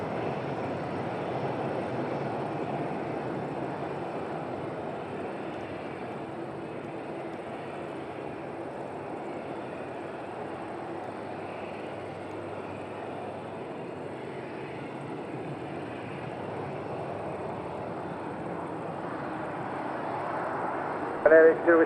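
A Ryanair airliner's engines hold a steady, broad roar on the runway at windy Madeira airport, running evenly for the whole stretch. Radio voices talk over the engines.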